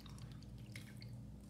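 Water poured from a measuring cup filled to capacity, heard as a faint, thin trickle and dripping over a steady low hum, with no talking.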